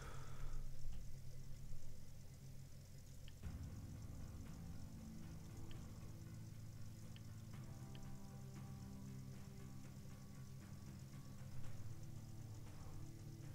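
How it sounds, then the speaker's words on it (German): A machine engine in the video game Gold Rush The Game runs steadily at close range, a dense low rumble that thickens after a few seconds and continues without break, with no talk over it. "ich kann die Maschine auch nicht verlassen, wenn der Motor läuft."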